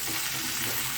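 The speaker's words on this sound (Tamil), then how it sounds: "இந்த எண்ணெயிலே வெண்டைக்காவை வதக்குங்க." Okra (ladies finger) sautéing in hot oil for a tamarind gravy, a steady close sizzle and crackle filling the whole moment with no voices.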